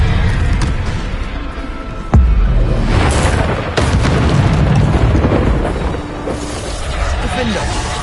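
A Bombarda spell explodes in Hogwarts Legacy, a sharp booming blast with a rumbling tail amid continuous combat noise, followed by further thuds and bursts.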